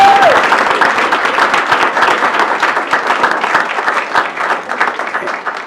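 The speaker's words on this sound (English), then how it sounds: "Give them a round of applause while they're coming up." A crowd at a board meeting applauds a state champion girls basketball team, loud and close, with a brisk, continuous patter of many hands and a few distinct nearby claps, gradually easing toward the end.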